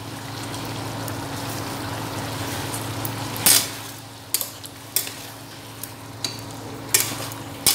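Fried onions stirred into meat in a pan, a low continuous sizzle broken by several sharp clanks of a spatula against the metal pan at irregular intervals.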